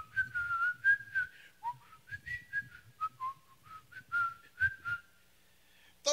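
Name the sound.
human whistling a tune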